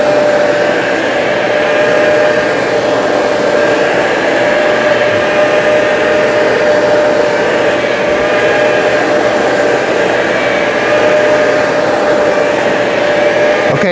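A Hoover ONEPWR SmartWash BH50700V cordless carpet cleaner runs loudly and steadily on carpet while spraying solution, its motor holding a constant whirring hum with a high tonal whine, and no talking.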